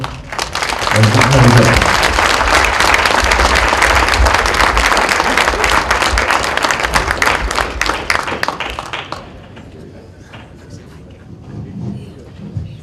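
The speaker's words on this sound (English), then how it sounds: "let us all give him a round of applause" Loud, sustained applause from the audience at a Martin Luther King Jr. breakfast gathering, dense clapping for about nine seconds before dropping away to faint room noise and a few scattered claps.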